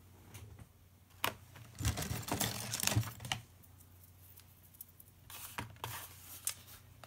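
Scissors cutting open a tightly sealed gift package, a cluster of crisp snips and crinkly rustling of wrapping, loudest in a short burst early on, then a few lighter scattered clicks.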